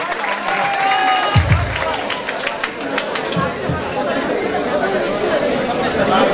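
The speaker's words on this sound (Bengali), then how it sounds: "স্যারদের জন্য জোরে করতালি, তাদের জন্য জোরে একটা করতালি আশা করি।" An audience applauds guests at a university award ceremony, scattered claps rising into steady applause amid crowd chatter and murmuring, with a voice over a loudspeaker.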